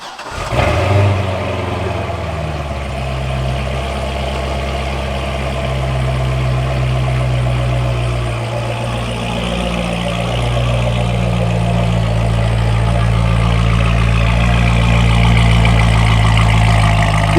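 A Corvette engine fires up for the first time, cranks briefly, then settles into a loud, steady, rumbling idle close by with a slight rise in revs toward the end.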